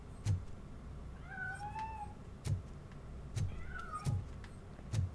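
A cat meows in the video game RoboCop: Rogue City, two drawn-out rising cries, faint and a little distant, set against sharp thumping hits and a low background hum.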